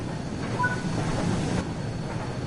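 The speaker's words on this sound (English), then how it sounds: "approaching the station, prepare the train to slow down" Train in Train Sim World 4 slowing on the rails, a steady rolling rumble and hiss of wheels on track with faint squeal tones, continuous and fairly loud with no talk.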